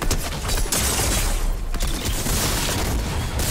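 Rapid gunfire in the Fortnite video game, a loud, dense burst of shots and booms running almost continuously, with a couple of brief gaps, close and alone with no talk.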